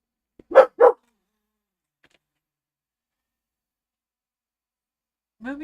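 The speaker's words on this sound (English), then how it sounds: "Oh my god, he's crazy. He's barking at nothing." A dog barks twice in quick succession, then silence follows before another faint bark or vocal sound at the very end.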